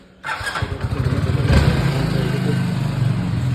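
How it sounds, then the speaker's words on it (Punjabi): A motorcycle engine fires up after a brief silence on a cold, foggy morning, then settles into a loud, close, steady idle as it warms up. "ਬਾਈਕ ਨੂੰ ਥੋੜਾ ਗਰਮ ਕਰ ਲਈਏ"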